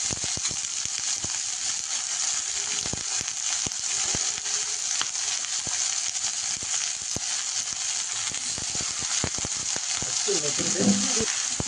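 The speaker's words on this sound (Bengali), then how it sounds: "তবে ভাজাটা বসিয়ে দিয়ে যাবো কাঁকড়াটা" Spotted crab fries in a pan with a dense, steady sizzle and crackle that runs unbroken throughout. A few sharp pops and a brief clatter of stirring come near the end. The sound is close and fairly loud, with no voices.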